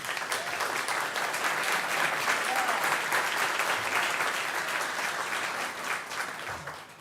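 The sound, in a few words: audience applause at a city council meeting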